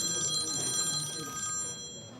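A telephone rings with steady, repeated electronic tones, heard alone at moderate level over a faint background murmur, in a short indoor scene where a journalist calls a doctor.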